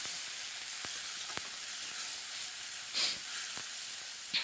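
Steady, soft sizzle and hiss of a little water hitting frying spice paste for a river stingray fish curry, with a few faint clicks of stirring over the constant steamy crackle.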